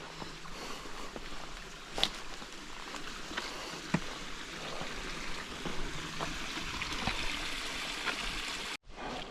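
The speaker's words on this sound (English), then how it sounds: "the trail is a stream." Soft, steady trickle of a stream running along a hiking trail on the Appalachian Trail near Cold Spring Shelter, with faint wind and a few light clicks of movement.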